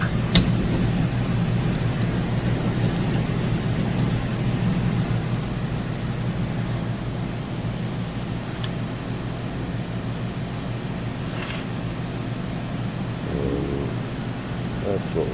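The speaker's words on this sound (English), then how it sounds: "So we'll go over to the Scotch-Brite wheel." A Scotch-Brite wheel runs on a machined plate in a shop, giving a loud, steady whirring roar with a low mechanical hum underneath that barely changes for the whole stretch.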